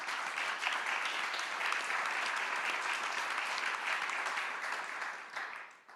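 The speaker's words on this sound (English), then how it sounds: "maybe we can do a round of applause to our speakers" Audience applause for speakers at a nature resilience conference session, a dense, sustained patter of clapping from a sizeable crowd that holds steady and then tapers off at the end.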